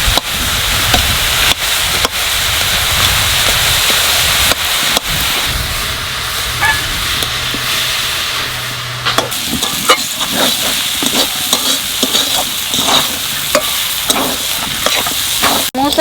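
Chopped banana flower (mocha) frying in oil in a pan, a continuous sizzle with repeated sharp stirring and scraping strokes that grow more frequent toward the end.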